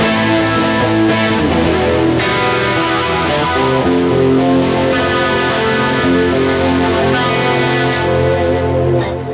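Heavily distorted electric guitar playing sustained chords through a TONEX amp model, thick and loud with steady wash and effects shimmer, no voice over it.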